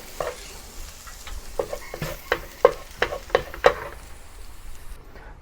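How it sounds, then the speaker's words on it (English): Garlic sautéing in a pan for a slow cooker beef goulash, a soft sizzle under repeated stirring scrapes and clicks of a utensil against the pan, close and intermittent before falling quiet. "saute the garlic"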